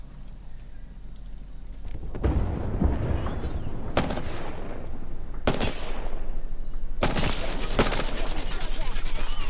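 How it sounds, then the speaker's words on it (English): Video game firefight with loud bursts of gunfire breaking out in sharp volleys over a constant rumbling battle backdrop, the shots growing denser and more sustained toward the end. "they opened fire"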